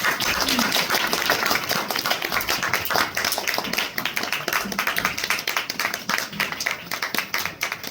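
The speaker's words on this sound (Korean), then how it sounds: "박수 한번 주세요" Audience applause in a theater during a post-show talk, dense sustained clapping from a full house filling the room, with a voice heard faintly over it.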